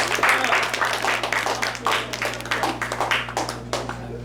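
Classroom applause for Mr. Fernandez, school leader: a steady patter of many hands clapping fills the moment, with a constant low hum underneath and some voices mixed in.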